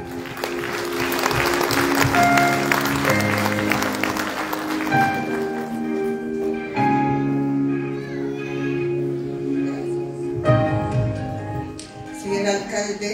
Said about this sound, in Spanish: Y estos aplausos son para ella.